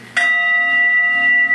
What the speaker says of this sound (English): Here we have some altar chimes, and here is one, just a single bell.